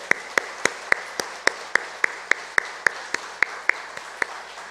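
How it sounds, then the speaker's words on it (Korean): A congregation at a Korean Sunday church service applauds its choir with steady, evenly spaced claps, about sixteen sharp beats in under five seconds, clear and close with no voices over them. "여러분 오늘 귀한 찬양해 주신 우리 시온 찬양대 박수로 격려하겠습니다."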